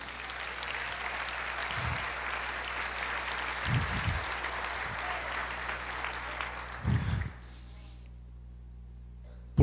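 A church congregation applauds during a sermon, sustained clapping that runs for several seconds over a low hum before stopping abruptly into quiet.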